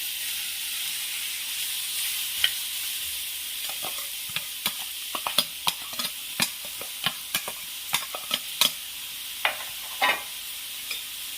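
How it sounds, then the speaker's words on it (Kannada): Chopped onion sizzles steadily in hot oil, with a constant frying hiss broken by crisp pops and the scrape of stirring, close and alone without voices. "ಈಗ ಹೆಚ್ಕೊಂಡಿರೋ ಒಂದು ಈರುಳ್ಳಿನ ಎಣ್ಣೆ ಹಾಕಿ ಹುರ್ಕೊತಾ ಇದ್ದೀನಿ"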